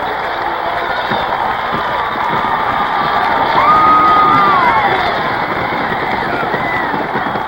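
Sellout crowd at a 1971 college football game in Norman, Oklahoma, Nebraska at Oklahoma, cheering and shouting in a steady, dense roar that swells briefly in the middle, with a whistle-like tone rising above it.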